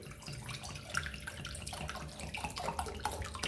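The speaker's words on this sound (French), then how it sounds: "Je vais prendre l'eau et je vais le verser dans le saladier." Water is poured into a salad bowl for a soap-and-pepper science experiment, a soft and continuous splashing trickle that stays faint and close, with no talk.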